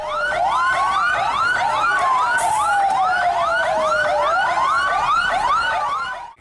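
Several fire engine sirens wail continuously and loudly at a house fire in Makassar, their overlapping rising and falling tones layered close together with no talk.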